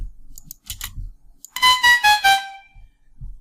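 A synthesized tone built from a sine wave, band-pass filter and white noise, heard as a few short pulses of noise followed by a quick run of four bright, horn-like tonal stabs that fade.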